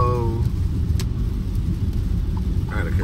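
Steady car interior rumble while driving through rain in Los Angeles, a continuous low wash of engine and road noise with rain hiss, loud and unbroken, with a brief voice at the start.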